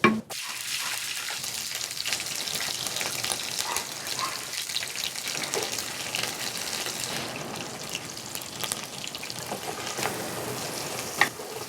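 Onions fry in a pan of hot oil in a home kitchen, alongside catfish being cooked, a loud, continuous bright sizzle and crackle with a few stirring clanks and no talk.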